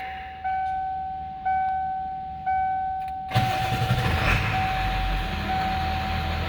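A 1996 Ford F250 Powerstroke 7.3-liter diesel is cranked over with a few rhythmic starter whirs and dash chimes, then catches and settles into a loud, close, steady rumbling idle.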